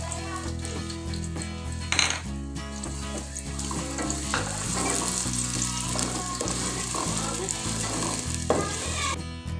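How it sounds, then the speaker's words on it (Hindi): Onions sizzle hard in hot oil, a loud continuous frying hiss with occasional stirring clatter and pan knocks, no talking. "अब हम इसमें प्याज डाल देंगे।"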